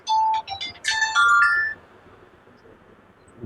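A mobile phone ringtone goes off in a classroom, a loud bright electronic melody of repeated tones that rings for under two seconds and then stops, leaving quiet room noise.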